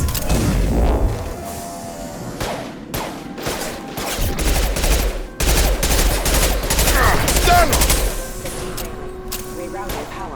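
Combat gunfire in Mass Effect, with bursts of rapid shots and booming impacts layered over game effects and voices.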